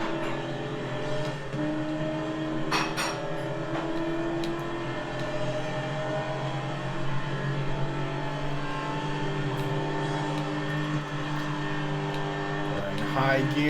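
Race car engine in a NASCAR video game climbing up through the gears on a speedway, a loud continuous engine drone with pitch shifts at each gear change and a commentator talking over it.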